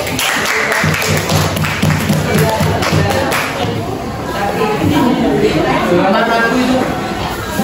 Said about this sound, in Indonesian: Tepuk tangan dulu untuk Nagit.